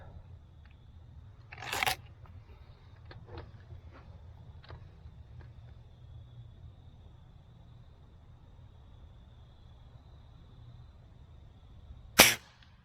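Two sharp snapping shots from a Diana 34 T06 Classic break-barrel air rifle in .177, one early and one near the end, separated by a long quiet stretch with faint handling clicks.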